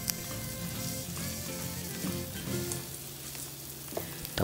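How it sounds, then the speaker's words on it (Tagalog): Garlic and onion sizzle and fry steadily in a hot pan for a Kapampangan kare-kare base, a continuous close crackling hiss with faint stirring clicks and no talk. "gigisa po natin muna dito yung bawang. Tapos sasabay na natin yung onion."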